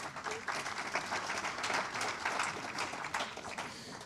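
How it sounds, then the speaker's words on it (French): Audience applause at a 2016 awards ceremony for global innovation and enterprise: a steady, dense wash of many hands clapping that holds for about four seconds at moderate-to-low volume, with no pauses. "Oui, on peut les applaudir."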